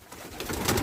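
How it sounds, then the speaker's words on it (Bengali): Pigeons in a small loft of about five pairs, heard as a short, soft, low cooing alone under faint background hiss. "5 জোড়া কবুতর আছে।"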